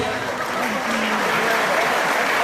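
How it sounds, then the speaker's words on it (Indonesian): Audience at an Indonesian national entrepreneurship movement launch ceremony in Papua gives sustained, dense applause, a steady wash of many hands clapping throughout with a voice faintly present underneath. "Bapak Ibu kita berikan tepuk tangan yang meriah"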